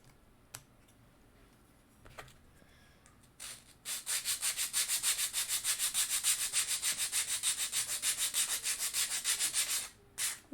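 Sandpaper scrubs a miniature wooden dresser after a few quiet taps, settling into fast, even back-and-forth strokes that rasp close and steady for several seconds before stopping, with a couple of final rubs.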